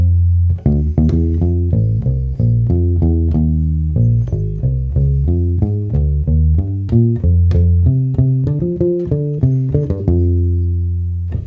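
A bass guitar plays a busy, syncopated bass line, a steady run of plucked notes close and loud, with no talking over it.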